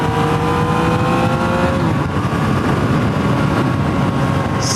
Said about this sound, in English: Sounds really nice even with the stock exhaust.